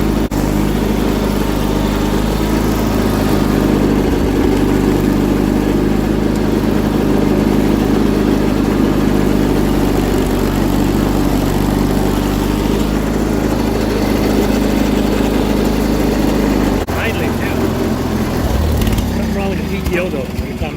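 A small engine on old equipment runs at a steady, loud idle for about twenty seconds, with a shift in tone and clatter near the end.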